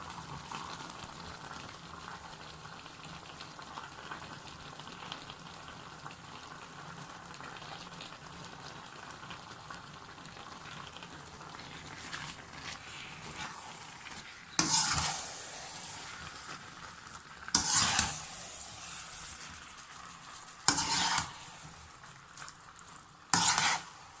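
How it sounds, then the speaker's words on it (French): Rice pilaf with spices simmers in a pot over low heat, a soft continuous bubbling and hiss, then several loud scraping bursts of a spoon stirring through the rice against the pot toward the end. "Je vais remuer le tout et je vais laisser cuire pendant 10 minutes."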